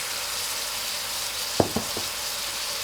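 Carrots and glass noodles stir-fry in a hot wok with a constant loud hiss of oil, broken midway by a few quick knocks of the spatula against the pan.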